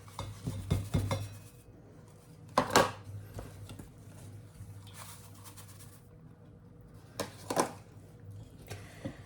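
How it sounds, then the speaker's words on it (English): A utensil stirs sugar into melted butter in a pan, a few scraping and clinking strokes against the metal in two short clusters with quiet pauses between, close and fairly soft. "now that our butter has completely melted, I'm going to stir in both the sugars"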